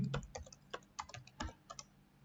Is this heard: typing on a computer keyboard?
yes